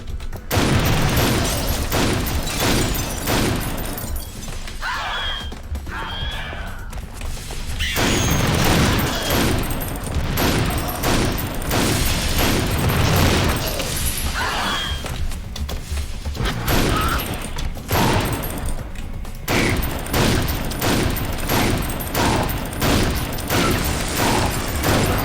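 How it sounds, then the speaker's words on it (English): Explosions and heavy gunfire in the shooter game Painkiller: Overdose, loud repeated booms and rapid volleys of shots layered over a constant rumble, with brief quieter gaps between bursts. "Oh Jesus, they explode on impact."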